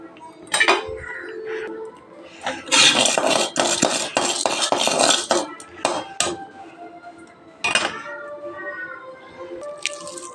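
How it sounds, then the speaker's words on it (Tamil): Urad dal and chana dal being roasted in oil in a pan, heard as close clattering metal scrapes and clinks of a spoon against the pan in several busy bursts with short pauses. "உளுத்தம் பருப்பு கடலை பருப்பு வறுத்துக்கலாம்."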